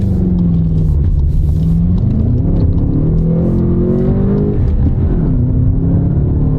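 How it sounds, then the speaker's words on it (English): A turbocharged car climbs a hill in sport mode, its engine droning loud and steady as it accelerates and the pitch slowly rises, with a continuous rumble filling the cabin and no talking. "So here we go up the hill, and we'll see how zippy this thing is."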